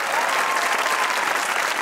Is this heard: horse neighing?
no